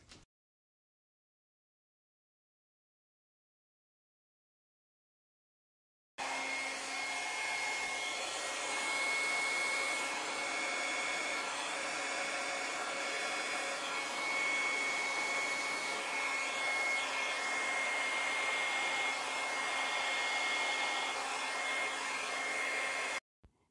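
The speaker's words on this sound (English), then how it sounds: "You can definitely use a blow dryer to spread the paint out and to make it flat." A blow dryer pushes fluid paint across a canvas. After about six seconds of silence, a steady, close whirring hum starts and runs without a break to the end.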